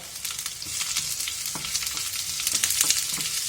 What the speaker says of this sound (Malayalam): നമുക്ക് ഇതിലേക്ക് കട്ട് ചെയ്ത് വെച്ചിരിക്കുന്ന വറ്റൽമുളക് ചേർക്കാം